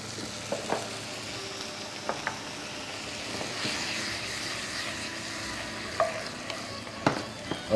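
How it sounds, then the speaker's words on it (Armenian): Chopped onions fry in a pan after a splash of wine vinegar, giving a steady close sizzle with scattered stirring clicks and scrapes throughout. "եւ մի քիչ տապակվելուց հետո ավելացրինք գինու քացախ։"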